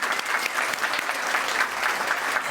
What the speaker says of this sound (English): Let's give them a round of applause because they do a lot of work.